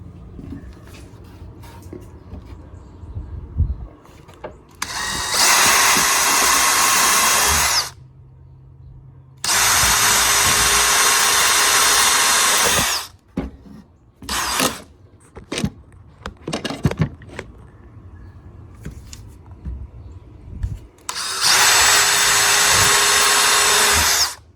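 A power drill bores holes through one board into another, loud sustained whirring runs of several seconds each separated by quieter handling clatter, close to the listener.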